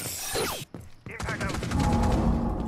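Gunfire in Rainbow Six Siege: a loud close burst of rapid automatic shots, a brief gap, then more rattling fire and mechanical clatter, with a voice briefly audible.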